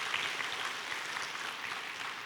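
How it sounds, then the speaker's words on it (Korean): A church congregation claps together during a sermon, a dense, even burst of applause heard from a moderate distance, with no clear voices over it. "박수."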